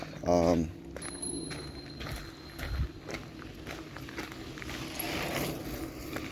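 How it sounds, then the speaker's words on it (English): A passing cyclist's bicycle bell rings briefly near the start of an outdoor walk at Lake Chaminwood, heard over constant crunching footsteps and steady outdoor noise. "That guy rang his bell"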